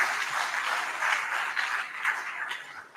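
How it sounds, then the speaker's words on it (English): An audience at a university convocation lecture claps, a brief spread of hand clapping in a large hall that swells and fades slightly, moderately loud with no speech over it. "I thought you would clap for us at that point."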